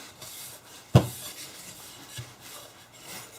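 A lint-free rag lightly rubbing finish onto walnut wood furniture, one sharp scuff followed by soft, faint wiping strokes in a quiet room.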